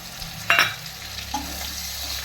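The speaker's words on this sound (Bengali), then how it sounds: "একটু নুন দিয়ে মাংসটাকে ভেজে নিচ্ছি" Meat fries in a pan with salt, turmeric, cumin, chili powder and ginger paste, a low steady sizzle with one sharp utensil scrape and a few soft stirring knocks, close and without talk.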